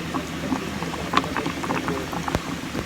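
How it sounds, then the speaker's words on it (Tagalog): Bangus (milkfish) with tausi bubbling in a pot, a steady close-up simmer of soft popping and crackling, with no voices. "Kumukulo na yung ating bangus Tausi."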